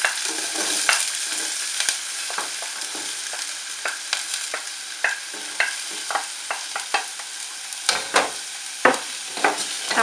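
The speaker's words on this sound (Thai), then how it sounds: "ขอใส่น้ำมันก่อนนะคะเพราะว่า จะขอผัดหอมก่อน" Shallots stir-fry in hot oil in a pan for a macaroni soup, a continuous soft sizzle broken by frequent light scrapes and taps of the spatula, close and without talk.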